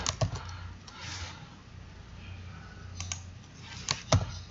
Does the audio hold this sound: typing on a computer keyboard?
yes